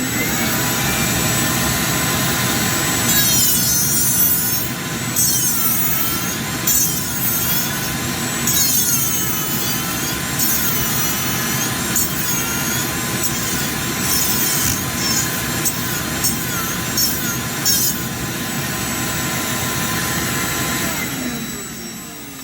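High-speed rotary tool fitted with a Taita carbide burr grinding into wood, a loud, steady close-up whine with rough scraping bursts as the burr bites and lifts, then spinning down at the end.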